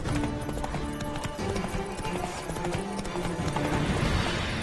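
Roach the horse galloping in the video game The Witcher 3, steady rhythmic hoofbeats clopping close and continuous, with faint game music and ambience beneath.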